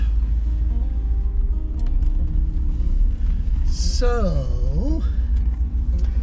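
A 1986 Rolls-Royce Silver Spur being driven, with a steady low road rumble throughout under a voice and a brief squeal partway through.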